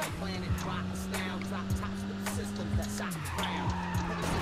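The Torrida sports car in the racing game Midnight Club II drives hard with a sustained engine drone that shifts pitch near the end, while repeated sharp tire squeals and skids cut in over it.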